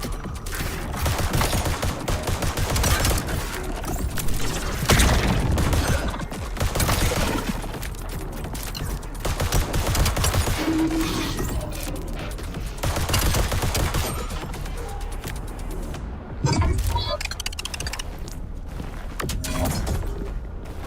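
Pistol fire in a first-person video game, a steady stream of sharp shots with mechanical clicks and reload sounds, loud and close throughout over game noise.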